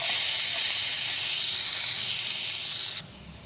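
Chopped garlic sizzling in melted butter in a pan for an egg dish, a steady bright hiss that holds evenly for about three seconds, then cuts off abruptly.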